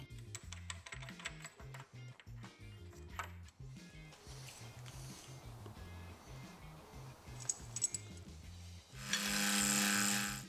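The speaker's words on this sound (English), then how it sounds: "Then I can change over to the dovetail cutter." A dovetail cutter mills a boring bar holder in small bites, giving close irregular metallic ticking and chatter, then a bright steady whir of the machine running near the end.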